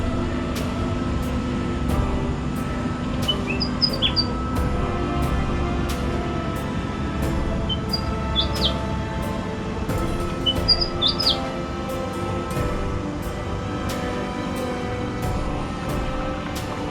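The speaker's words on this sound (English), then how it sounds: "Let's just listen to the birds" Birds chirp in short, high bursts spaced every few seconds over a steady hum of traffic, with one or two birds calling nearby.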